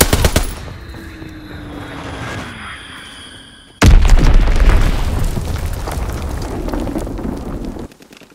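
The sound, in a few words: bomb explosions and gunfire in video game Call of Duty WWII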